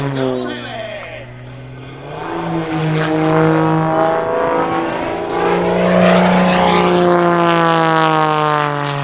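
A Wolf Pitts biplane's light engine roaring through a vertical aerobatic climb at an airshow, its pitch sweeping up and down as it passes, loud and continuous under an announcer's commentary.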